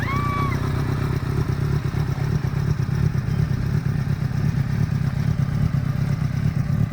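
A motorcycle engine idles and pulls away slowly in first gear with a steady mid-pitched rumble and some clatter, close by and fairly loud.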